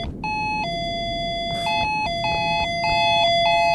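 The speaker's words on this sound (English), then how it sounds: "did we put the fucking fire alarm on the door?" A door alarm bell chimes in The Yokai Shop video game, with loud, clear electronic tones repeating in a stepped two-note pattern several times in a row, alone without talk.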